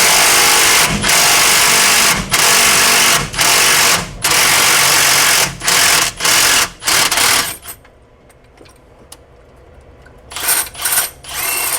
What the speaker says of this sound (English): I've got my little stubby 3/8 impact on there. Now I'm about to just slowly pull that thing off